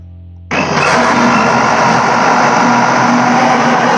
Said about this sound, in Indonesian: langsung aja kita blender si campuran tadi